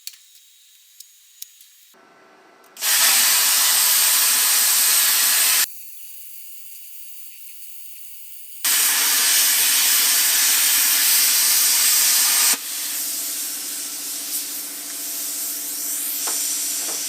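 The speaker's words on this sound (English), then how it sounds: "I'm going to try to cut a 3/4 inch piece of steel." An ARCCAPTAIN CUT 55 plasma cutter slicing through 3/4 inch steel gives two long, loud bursts of harsh roaring hiss, with quieter hissing and pauses in between and toward the end.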